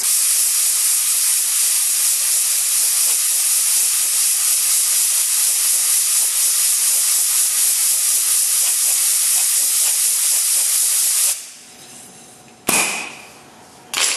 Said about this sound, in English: I'm going to blow that with the air blower here.